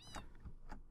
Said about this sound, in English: Oh, we got a cat and a dog